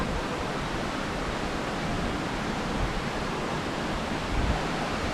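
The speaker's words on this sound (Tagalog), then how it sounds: "Dito sa tapat namin is yung ilog na." A river or stream runs beside a campsite, a steady broadband wash of flowing water that holds even throughout, with no voices.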